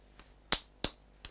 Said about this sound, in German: oder kannst du auch klatschen?